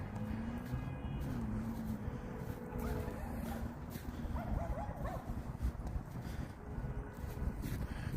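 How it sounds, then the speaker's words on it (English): Dogs chasing balls outdoors on a Chicago street give off scattered barks, yips and whimpers at a moderate distance, mixed into continuous city traffic and ambient noise. "look at all the dogs chasing the balls there."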